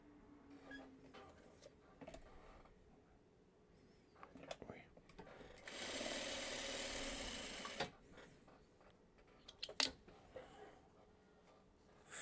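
Sewing machine stitching quilt block pieces together, a fairly faint burst of rapid mechanical whirring lasting about two seconds in the middle, surrounded by quiet handling clicks and soft murmured speech.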